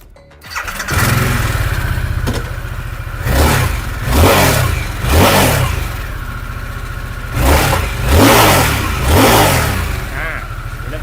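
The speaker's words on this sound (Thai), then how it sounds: "เดี๋ยวผมพามาฟังเสียงเครื่องยนต์กันหน่อย" A Harley-Davidson motorcycle engine idles with a deep rumble and is revved repeatedly, each throttle blip rising and falling, loud and close.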